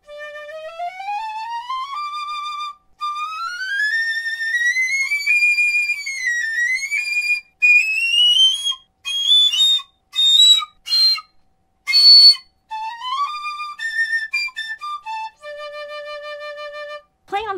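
A Burkart Resona piccolo fitted with a wave headjoint plays alone in a free, noodling line: bright high sliding runs, then short separate phrases and sustained notes, close and clear.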